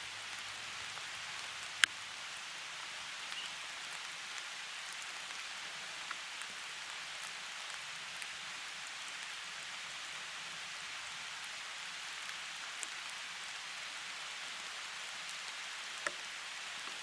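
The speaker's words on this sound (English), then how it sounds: "The rain, which has held off all day, has finally started to come down," Rain falls steadily in a forest along a backcountry trail, a faint, even hiss of drops with a few sharp isolated patters close by.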